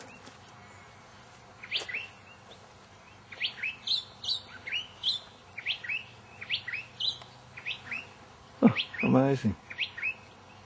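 A bird up in a tree in a cactus garden chirps a long run of short, bright, repeated tweets, fairly close, with a person briefly exclaiming near the end.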